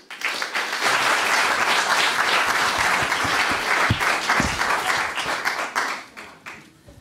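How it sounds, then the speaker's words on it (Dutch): Warm applause from a seated audience at a literature lecture, sustained dense clapping that swells quickly, holds steady, then tapers off near the end. "Mag ik een warm applaus voor Lou Spronk"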